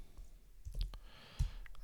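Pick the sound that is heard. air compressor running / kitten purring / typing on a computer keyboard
typing on a computer keyboard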